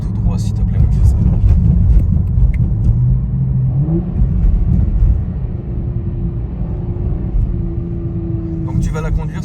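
A car drives along the road, its low engine rumble and tyre noise steady and close from inside the cabin, with a brief rising rev partway through while people talk over it.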